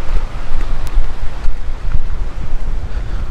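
Strong wind buffets the microphone in heavy, rumbling gusts that rise and fall for a few seconds, with no one speaking.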